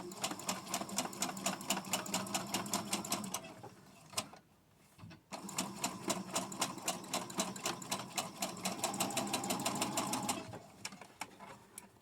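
A sewing machine runs a quarter-inch seam on a fabric face mask, giving a steady, fast mechanical whir with even stitch ticks. It stops briefly in the middle, then restarts and continues close up without voices.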